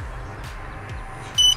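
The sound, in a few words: startup beep jingle of Ehang Ghostdrone VR headset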